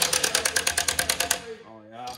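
Rapid, evenly spaced mechanical pulses of an impact tool or drill working on plywood wheels for a Can-Am Maverick X3 for over a second, then stopping as a voice begins speaking.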